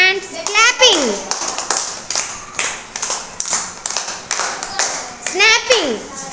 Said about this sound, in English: Do action with your hands clapping.